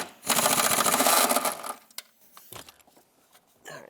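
A 15mm nut on the rear shock absorber of a 2007-2010 Chrysler Sebring is spun off with a loud, rapid whirring-clicking burst of about a second and a half, then a few scattered metallic clinks.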